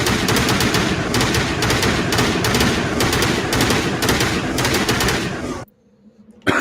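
Sustained automatic assault rifle fire in a video game, a dense rapid burst lasting several seconds at loud volume before cutting off abruptly to near silence.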